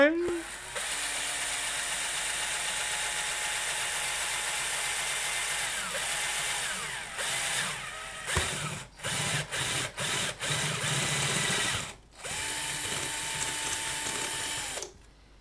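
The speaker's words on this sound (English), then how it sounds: "Drilling." A power drill whirs steadily at close range drilling into a Keritech VS-1 vectorscope, then stutters through short bursts and stops before starting up again.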